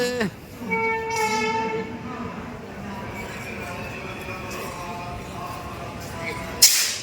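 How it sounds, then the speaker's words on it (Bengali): A Jammu Tawi–Kolkata Express train rolls into a station with steady rumbling and clatter, a long horn sounding early on, station voices faintly in the background, and a sharp clack near the end. "এই যে ট্রেন প্রবেশ করছে"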